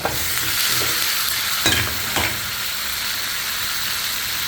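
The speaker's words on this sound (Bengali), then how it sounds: "তরকারিগুলো দিয়ে আমি আবারও নাড়াচাড়া করে দেব" Vegetables stirred in a frying pan with spices, a steady hiss of sizzling oil throughout with a few sharp scrapes and clatters of the spoon against the pan, close and alone with no talk.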